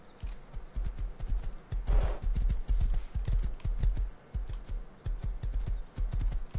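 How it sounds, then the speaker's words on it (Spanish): A horse walking in the video game Rust, steady close clip-clop hoofbeats in an even rhythm that keeps going through the whole stretch, with a faint airy breath near the start. "Mi caballo me ayuda a hacer la distracción."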